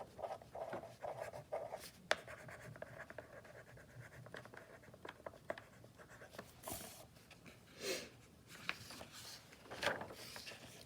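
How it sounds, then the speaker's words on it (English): A pencil scratches across a sheet of paper, writing a place name on a map of the western states; close, soft strokes in short bursts with small pauses, alone without talk. "I'm gonna turn my page and I'm gonna write Cascade."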